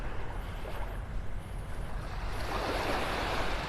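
Surf washes onto a beach in North Naples, Florida as a soft, steady rush of breaking water, heard from some distance. Wind noise rises toward the end, with no voices.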